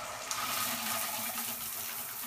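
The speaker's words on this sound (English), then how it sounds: "Turning on the supply to the shower head and using a bowl to collect water" Water from a shower supply streams steadily into a bowl, a broad even hiss of splashing with no breaks and no voices.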